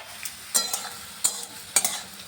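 Potatoes frying with salt in a pan, stirred in short scraping strokes that come about three or four times over a quiet sizzling background, close and fairly clear, with no talking.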